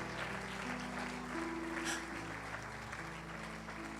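Church congregation applauding in praise during a Spanish-language worship service, a steady wash of clapping over a sustained organ or keyboard drone.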